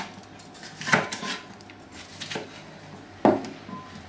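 A knife cuts a pepper into larger pieces on a board for vegetarian lasagna, giving two distinct sharp cutting knocks about two seconds apart against quiet kitchen background.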